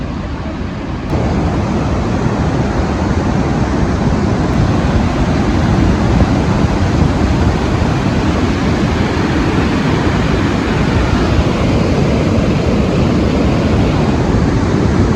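A mountain stream and waterfall pour without a break along the Langtang trek near Syabrubesi, a loud, unbroken broadband rush of water that holds steady throughout with no voices.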